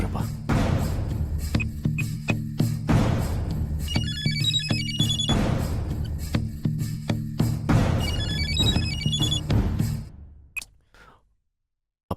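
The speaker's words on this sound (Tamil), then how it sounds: "ரிங் போது எடுக்க மாட்டீங்களா?" A telephone ringtone chimes in two repeated bursts, a bright electronic melody over a steady low background, with thumps and faint voices mixed in before it stops abruptly near the end.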